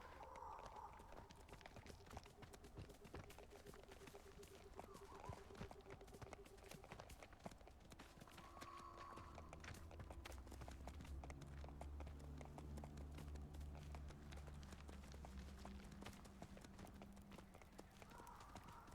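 Horse hooves clip-clop steadily and close in the video game Hogwarts Legacy, a continuous walking-to-trotting rhythm over soft ambient game music with no talking.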